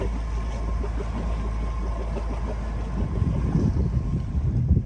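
Wind buffets the microphone aboard a sailboat off the Turkish coast, a light northeast breeze over residual waves, giving a continuous low rumble with water sloshing and growing rougher in the final seconds.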